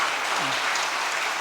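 A church congregation claps for its choir after a worship service, a short steady burst of applause filling the room at moderate volume.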